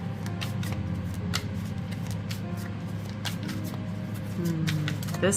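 Tarot cards being shuffled by hand over and over until one falls from the deck, giving a steady run of soft papery riffles and flicks at close range with low background hum and no talking.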